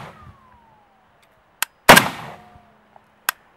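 AK-47 rifle fired handheld without a muzzle brake: one loud, sharp nearby shot with a short ringing tail, bracketed by a couple of fainter clicks and clanks.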